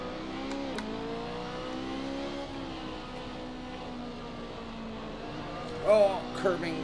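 A BMW race car accelerates on the Nurburgring GP circuit in Assetto Corsa, its engine droning and climbing in pitch under steady revs. A quick burst of higher revving comes near the end, and someone talks over it.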